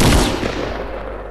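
A loud, close shotgun blast fired at a clay pigeon in a Fortnite skeet shooting game, its sharp report trailing off into a rumbling decay.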